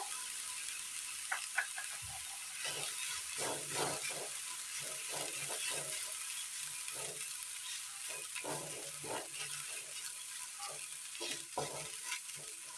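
Crushed bird's-eye chilli, grated coconut and chopped curry leaves sizzle quietly in a hot pan for a Kerala curry, with repeated scraping stirs breaking over a soft, continuous frying crackle.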